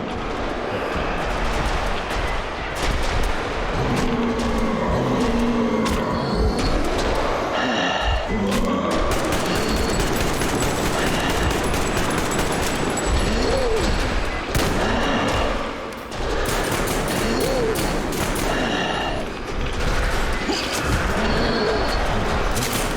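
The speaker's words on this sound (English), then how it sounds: "I'm shooting them to see if it's even possible to kill them" Sustained gunfire from shooting enemies in the video game Metro Exodus, a dense, loud barrage of overlapping shots and impacts running continuously for over twenty seconds with no talking.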